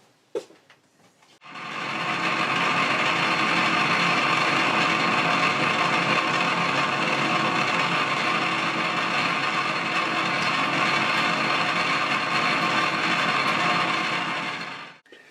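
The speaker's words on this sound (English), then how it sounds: "All I need to do is ream the bronze bush out to 8 mil." A reamer runs steadily through a bronze bush, opening it out to 8 mm, a continuous close, loud mechanical whir that starts after a brief click and runs on evenly before stopping.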